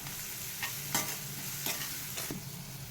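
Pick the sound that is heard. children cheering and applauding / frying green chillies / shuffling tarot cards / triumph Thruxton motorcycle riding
frying green chillies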